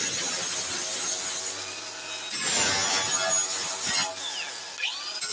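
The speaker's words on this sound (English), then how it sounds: "I'll get a flappy disc and we'll clean that up" A 40-grit flap disc grinds the metal of a 1970 MGB GT tailgate with a continuous, harsh abrasive whine. The pitch shifts and the sound surges as pressure on the disc changes, and there is no talking.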